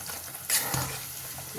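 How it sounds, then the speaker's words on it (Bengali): Paneer and water hitting hot fried masala in a pan, a steady sizzle that swells suddenly into a brief louder hiss and then settles back to a continuous fry. "এই যে পনির শুদ্ধ জল শুদ্ধ এটা দিয়ে দিলাম"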